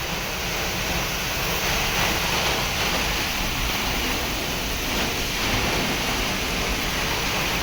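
Heavy downpour lashing Chobari village during a windstorm, a dense, steady roar of rain and gusting wind filling the whole stretch without letup, loud and close, with no voices.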